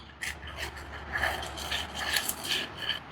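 A tool scrapes a brick mix smooth across the top of a thick steel handmade brick mold, giving a close, steady rasping rub in repeated strokes.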